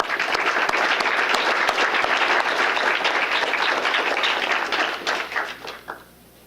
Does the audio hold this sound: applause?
yes